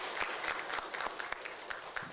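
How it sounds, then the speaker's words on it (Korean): A brief burst of steady audience applause greeting a judge at a student poetry recitation contest, dense clapping throughout without talk. "큰 박수 쳐주시기 바랍니다."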